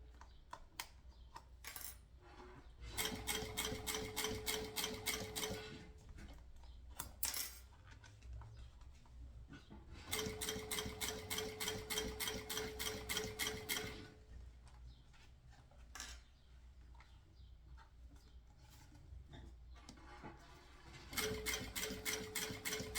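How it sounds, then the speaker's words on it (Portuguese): Sewing machine stitching an edge seam on a synthetic pouch, with three rapid bursts of even mechanical clatter a few seconds each, separated by quieter pauses with small handling clicks. "Começo pelo meio, dou um ponto, um retrocesso. E vou costurando aqui"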